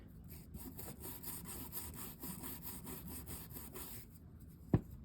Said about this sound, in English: let's scrub along the edge